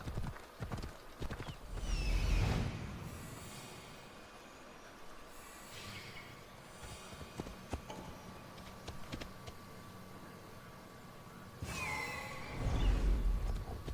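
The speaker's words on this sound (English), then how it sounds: "As soon as my trusty steed gets up to speed." Horse hooves galloping in Assassin's Creed Odyssey, set in ancient Greece, with a steady clip-clop rhythm, close and moderately loud, and heavier thumping bursts near the start and end. A brief whinny may be heard, and no one speaks.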